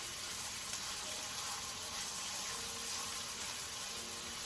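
A lamb chop sears in oil in a pan, giving off a steady, even sizzle with no clear breaks and no talking.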